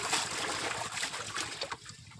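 Water splashes and trickles as it is poured out for a bullock to drink at a farm, soft and close, a continuous burbling pour that thins toward the end.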